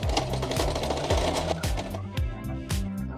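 A sewing machine stitches bedsheet fabric in a steady, rapid mechanical rhythm, its needle thumping at a regular pace, close and moderately loud without speech.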